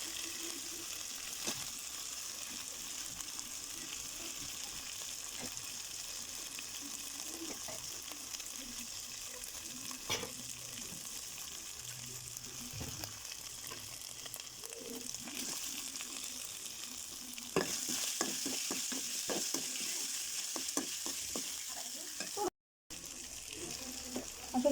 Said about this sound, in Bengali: আদা বাটা একটু হয়ে গেলে আমি পেঁয়াজ দিয়ে দিচ্ছি।